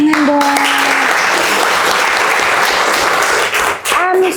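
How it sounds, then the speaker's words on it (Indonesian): A class applauds in a loud burst of clapping that fills the room. A voice speaks briefly at the start, and the clapping continues with a short dip near the end. "Very nice, kasih tepuk tangan dong."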